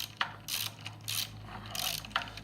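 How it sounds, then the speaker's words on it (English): Ratchet wrench tightening bolts on a Briggs-powered mower build, a close series of quick clicking, ratcheting bursts in an irregular rhythm with brief pauses between strokes, no talking. "now I'm going to go ahead and start working on trying to get them to tighten up"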